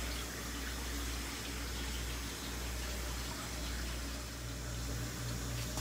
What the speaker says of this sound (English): So I figured I'll start filling this guy up